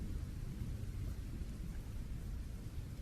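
Steady rain pours down with deep, low thunder rumbling continuously underneath, a dense, even wash of sound with no voices.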